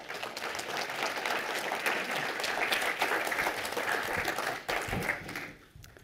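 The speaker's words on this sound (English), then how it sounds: "Welcome, please, with a warm applause, Dr. Sarah Genner." Sustained audience applause at a business conference keynote on the future of work, dense and loud for about five seconds before tapering off near the end.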